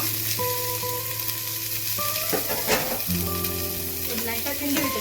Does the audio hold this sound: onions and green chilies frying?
yes